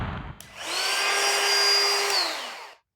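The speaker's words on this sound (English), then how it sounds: "this is my brand new ryobi portable palm router" A Ryobi portable palm router spins up after a click, holds a steady high whine for under two seconds, then winds down and stops, running alone and fairly quietly.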